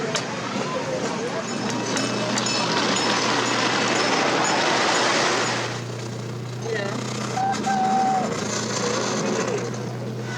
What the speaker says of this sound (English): we're going to take a ride on the classic El Ruth Express train ride.